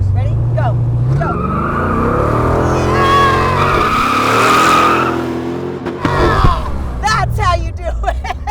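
A 1959 Austin Healey Bugeye Sprite fitted with a 478ci Hemi, braking hard with a loud, sustained tire squeal over engine rumble, close by, followed by people talking excitedly.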